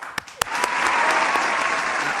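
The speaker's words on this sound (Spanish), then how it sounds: "¡Fuerte el aplauso, por favor!" Studio audience applause on a TV entertainment program: a few sharp claps at the start, then steady, loud, dense clapping that holds to the end, with no voices.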